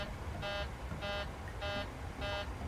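Four evenly spaced electronic alarm bursts sound in the cockpit of a PMDG 737-800 airliner in Microsoft Flight Simulator 2020, each tone lasting about a fifth of a second over a steady background hum.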